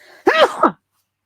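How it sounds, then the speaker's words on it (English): A single close, sharp sneeze erupts with a brief two-part burst after a faint breath in, then silence. "Hold on, I'm about to sneeze."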